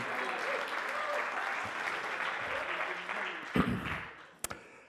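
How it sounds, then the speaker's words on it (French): An audience at a travel industry partners' event applauds a guest called to the stage, a steady dense patter of clapping that thins out near the end, with a couple of sharp knocks. "Sous vos applaudissements, bien sûr."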